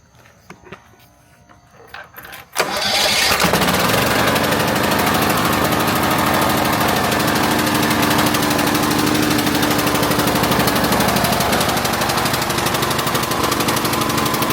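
Troy-Bilt Bronco riding mower engine cranking and catching after a few quiet seconds, then running steadily at a loud, even idle close by, with no voices.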